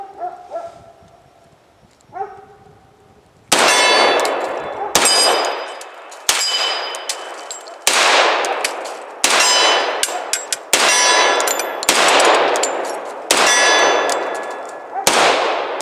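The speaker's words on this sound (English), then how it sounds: "So without further ado, let's shoot. Go ahead and I will do that first shot double action." An FNX 45 pistol fires a steady string of shots at steel targets, each loud crack followed by a bright ringing clang, after two softer metallic sounds at the start.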